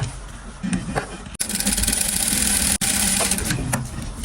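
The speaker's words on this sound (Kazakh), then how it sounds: "Екінші бетін тура солай тігіп шығасыз." A sewing machine stitches a denim skirt in a steady, loud mechanical whir, running in two continuous bursts separated by a brief stop.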